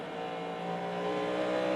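A Cadillac 5.5-litre V8 prototype race car engine at Road Atlanta during the Petit Le Mans endurance race: a steady, sustained mechanical drone that builds slightly in loudness, carrying in the background with no talk over it.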